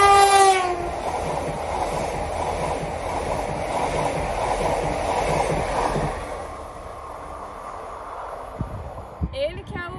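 DART commuter train passing near Balbriggan in County Dublin, a rumbling roll with a brief horn at the start that gradually fades, heard outdoors under wind and faint voices.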